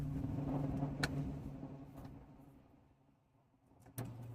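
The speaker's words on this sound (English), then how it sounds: "Sorry, I'm driving at the same time." Quiet interior hum of a car being driven, a low steady rumble that fades down midway and returns, punctuated by a couple of sharp clicks or knocks.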